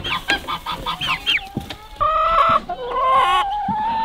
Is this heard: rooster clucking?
yes